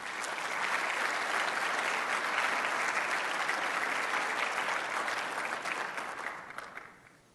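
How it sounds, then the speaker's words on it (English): An audience at a government forum claps in sustained applause for several seconds, dense and steady, then tapers off toward the end. "Please give him a warm round of applause."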